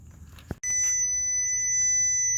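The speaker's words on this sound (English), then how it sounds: "here's the one test probe, and you can hear the audible tone." A steady high-pitched electronic beep from a continuity test probe sounds near a 2002 Nissan Sentra 1.8L's under-hood fuse block, starting after a brief click and holding continuously to the end.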